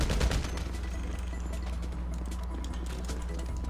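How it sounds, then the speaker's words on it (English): Gunfire in GTA V, a dense volley of shots at the start that gives way to steady loud game noise with rapid crackling bursts throughout. "That was like a couple shots in the head."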